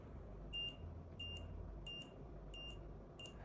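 A small Bluetooth item tracker, triggered from a phone, gives five short, evenly spaced high beeps, faint and close, against a quiet background.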